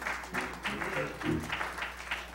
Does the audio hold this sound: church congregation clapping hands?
yes